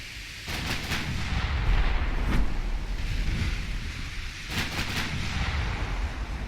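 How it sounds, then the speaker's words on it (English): Naval guns firing on a heavy cruiser in a warship battle game, heavy booming salvos with distant rumbling blasts and sharp reports around two and five seconds, over a low continuous rumble. "You can fire on the heavy cruiser."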